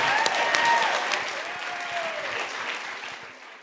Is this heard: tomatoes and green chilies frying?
no